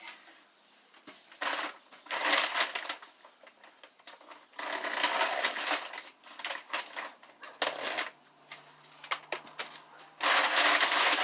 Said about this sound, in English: we are dividing this up in this bin, and we're going to be mixing it together so it's a more complete mixture